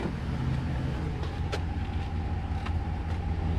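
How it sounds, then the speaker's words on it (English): A 2009 Dodge Ram truck engine idles steadily, a low rumbling hum heard up close with faint clicks over it and no talk. "we got it plugged in, got the truck running"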